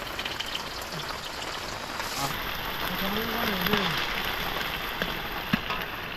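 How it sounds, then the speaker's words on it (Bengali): Onions dropped into hot oil for a meat dish, sizzling as a dense, even hiss throughout at an outdoor picnic cookout, with faint voices and brief background sounds. "প্রথমে মাংস রান্নার জন্য পেঁয়াজ দিয়ে দিচ্ছি, তেল গরম হয়ে গেছে।"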